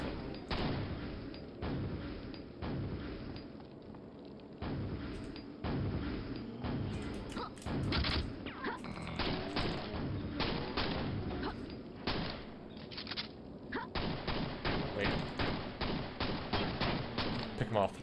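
Pistol fire in the video game Quake: a long run of sharp, repeated shots, sometimes in rapid bursts and sometimes spaced apart, over loud game noise, with occasional talking mixed in.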